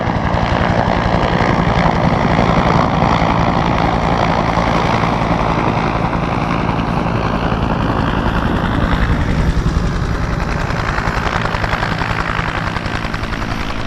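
A Bell Cobra helicopter flies loud and close after an airshow display, its rotor and engine roar continuous and dense throughout.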